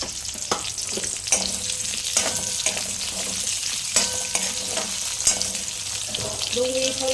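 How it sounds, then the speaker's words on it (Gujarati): Onions sautéing in a spoonful of oil in a kadai for matar paneer give a steady close sizzle, broken by repeated scraping and clacking stirs of a spoon against the pan. "હવે એમાં 1 ચમચી તેલ લઈ લીધું છે પાછું એ જ કઢાઈમાં, આપણે ડુંગળી થોડીક સાતરી લેશું આમ જ"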